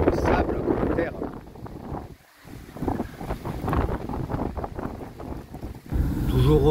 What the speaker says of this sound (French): Toujours autant de vent et de sable dans l'air